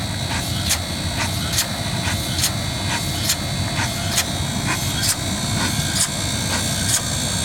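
A small Briggs steam engine drives a DC generator used as a battery charger, making a steady mechanical hum with regular, evenly spaced ticking or hissing pulses repeating throughout at close range.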